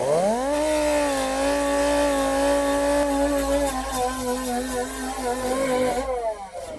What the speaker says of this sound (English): now I'll sand this to get the file marks out of it